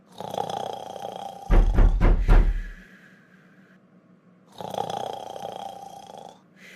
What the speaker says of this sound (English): snoring like a pig